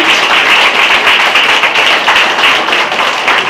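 Audience applause at a Bulgarian event honoring illustrators: a dense, steady wash of many hands clapping, loud and continuous throughout, with no voices over it.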